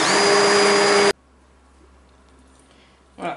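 Immersion hand blender whirring through cooked mung beans and water for about a second, loud and close, then cut off into near silence with a faint clatter at the end.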